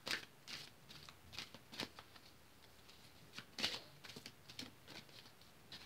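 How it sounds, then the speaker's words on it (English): Tarot cards being shuffled by hand: quiet, close papery riffles and soft slaps come in irregular bursts over a faint background hiss, with no talking. "Kind of shuffling them up good."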